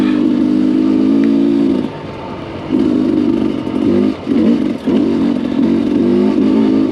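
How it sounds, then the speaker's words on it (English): A motorcycle engine lugs steadily uphill in third gear through deep whoops, a loud close drone that drops away briefly and then returns in uneven surges. "This is such a cool bike. Third gear. Just lugging up this hill."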